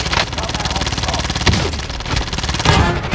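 Rapid automatic gunfire from hip fire in a first-person shooter video game, a loud, close, continuous stream of shots with brief heavier bursts and no pauses.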